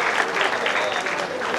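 An audience at a BRAC University chess club inauguration ceremony applauds the Vice Chancellor's speech, a dense, steady burst of clapping from a crowd filling the whole short moment.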